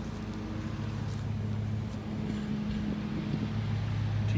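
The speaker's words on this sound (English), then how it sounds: "the lawnmower sound." A lawnmower drones steadily in a cemetery, a constant low engine hum with a rough rumbling texture, fairly distant and unbroken throughout.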